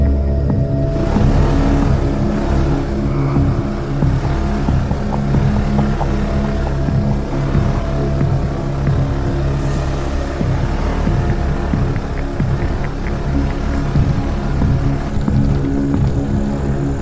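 A motorcycle engine labouring steadily as it is hauled up a rough mountain trail to a campsite on Mt. Parawagan in Montalban, Rizal, a continuous close drone with no talk over it.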